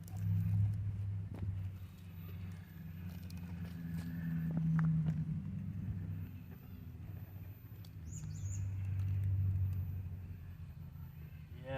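A brushless UDIRC UCX18 Pro Toyota Land Cruiser 79 Series scale RC truck crawls over an outdoor trail, its motor giving a low steady drone that rises and falls in surges, with faint bird chirps behind it.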